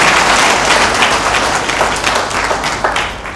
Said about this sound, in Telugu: ఒక్కసారి అలాంటి మహాకవులకు ఒకసారి చప్పట్లు కొట్టండి.